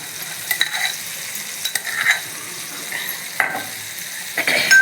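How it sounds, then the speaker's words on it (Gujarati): Ginger-chili-garlic paste being stirred into a soya chunk curry in a pan, with a steady low sizzle and scattered light scraping strokes, close and fairly quiet, no talk. "પછી એમાં હલાવી દેવાનું"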